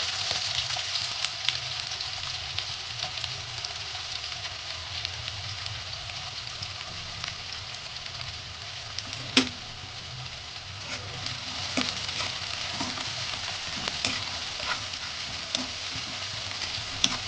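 Onion frying in a pan with cumin, mustard seeds and curry leaves, a steady close sizzle with occasional stirring scrapes and a few sharp pops, with no talking.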